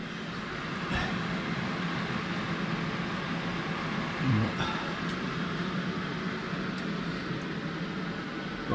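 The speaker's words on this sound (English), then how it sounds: "I've got the fans going, drying the paint off" Fans running to dry spray paint near a back door, a steady broadband whooshing roar that holds at an even level throughout, with a few faint knocks.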